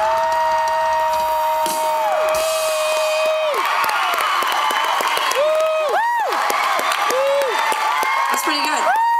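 Concert crowd at a show at Riverside Theater in Milwaukee cheers, whoops and applauds loudly and continuously for the keyboardist and guitarist during band introductions, with sustained keyboard and guitar notes ringing and bending over the noise.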